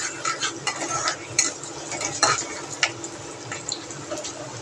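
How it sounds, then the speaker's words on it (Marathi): Curry leaves and onion sauté in oil in a pan, with a soft steady sizzle under close, irregular scrapes and clinks of a spoon stirring them. "कढीपत्ता सुद्धा तेलामध्ये दोन मिनटं परतून घेणार आहोत"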